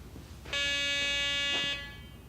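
Garrett PD6500i walk-through metal detector sounding its alarm, a single loud electronic buzzer tone lasting about a second, clear and close with no talk.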